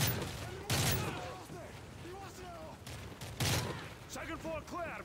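Bursts of automatic gunfire and scattered shots in the Call of Duty: Modern Warfare 3 video game, with two heavy volleys standing out, while voices talk over the battle.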